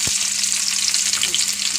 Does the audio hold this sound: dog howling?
no